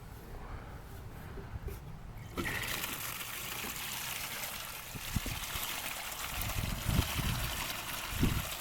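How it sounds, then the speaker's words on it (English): Water rinsing freshly harvested oca tubers, starting as a faint trickle and then opening into a steady splashing flow with occasional knocks, heard close and fairly quiet. "I'll give them a small bit of a rinse just to show you them better."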